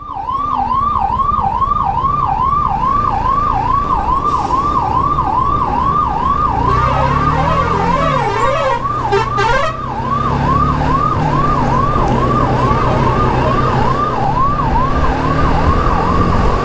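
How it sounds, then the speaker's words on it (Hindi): A loud wailing ambulance siren, the ambulance stuck in traffic, cycles steadily up and down, with a second siren briefly overlapping, over the rumble of road traffic and engines. "अब ये एम्बुलेंस के पीछे लग जा देते हैं, इसके पीछे से निकल जाएंगे अपन भी।"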